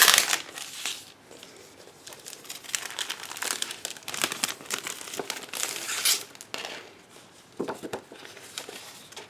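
Close, crisp crinkling and rustling of a plastic bag holding model-kit decals, in irregular bursts, with brief tearing sounds as the bag is handled and pulled open.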